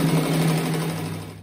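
A sewing machine runs steadily, stitching a strip of denim onto a jeans patchwork rug. The motor hum is close and loud for just over a second, then fades out, with no talking.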